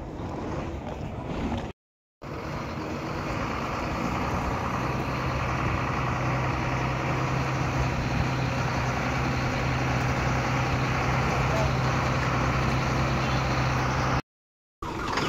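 Truck engine idling with a steady low drone while the vehicle is eased forward and back on a very narrow road, continuous and fairly close, with brief cuts in the sound.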